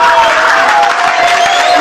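A church congregation cheers and shouts in acclamation of the Lord Jesus, a loud continuous roar of many voices with claps mixed in.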